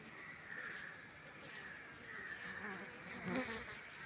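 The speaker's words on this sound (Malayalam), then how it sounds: "ഈച്ചകൾ വന്നും പോയി നിൽക്കുന്നു" Honey bees buzz steadily in a continuous drone, many insects humming at once at a moderate distance, gathering moisture from water.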